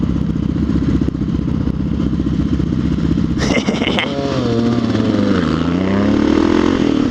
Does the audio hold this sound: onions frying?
no